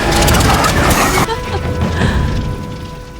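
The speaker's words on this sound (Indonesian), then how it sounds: "Dan bersama tim Conrad, mereka berhasil menyalakan kapal antik itu" An antique boat engine turns over and starts in a scene from the film Kong Skull Island. A dense mechanical clatter and rumble cuts off sharply into a lower, steadier running drone, loud and close.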